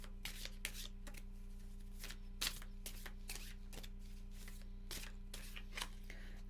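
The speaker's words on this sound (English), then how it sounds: "Okay, so shuffle them top to bottom." Cards being shuffled in repeated soft riffling bursts, close by and fairly quiet, over a faint steady electrical hum.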